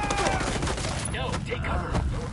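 Dense gunfire in Ghost Recon Wildlands, a rapid, continuous fusillade of loud close shots and bursts overlapping with brief voices.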